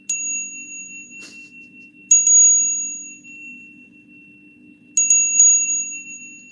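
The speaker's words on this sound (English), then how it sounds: "I'm gonna stop ringing this bell too much" A bell rung close to the microphone gives loud bright rings in a few clusters, a single strike, then rapid double and triple strikes, each leaving a long sustained tone that rings on over a quiet low hum.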